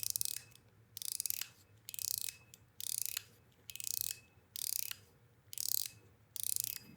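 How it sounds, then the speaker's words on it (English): The 01 EDC Game Cube mechanical fidget slider clicks in rapid ratcheting bursts, about eight crisp close-up slides in steady rhythm with short pauses between them, bright and quiet with no talking. "This is one of the smoothest mechanical sliders I have listened to"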